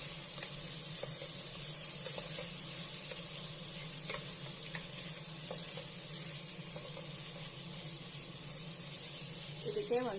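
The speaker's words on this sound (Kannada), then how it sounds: "ಈಗ ಇದು ಕೂಡ ಎಣ್ಣೆನಲ್ಲಿ ಚೆನ್ನಾಗಿ ಫ್ರೈ ಆಗಲಿ" Tomatoes frying in oil for an avarekalu bhath, making a steady close sizzle that runs throughout, with faint stirring scrapes and a low background hum.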